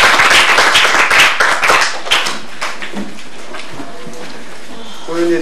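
An audience claps in a burst of applause honoring a Buddhist nun at a Korean Buddhist dance lecture, loud and dense at first, then thinning into scattered claps before fading.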